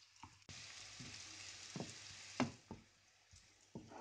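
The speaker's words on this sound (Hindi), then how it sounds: "मैंने ऑरेंज गाजर अब इसके अंदर ऐड कर दिया। अब इसको हम 5 to 7 मिनट स्टेयर करेंगे ताकि ये थोड़ी पक जाए।" Orange carrots frying in a pan with a continuous close sizzle, broken by several spoon scrapes and clinks as they are stirred, no voices.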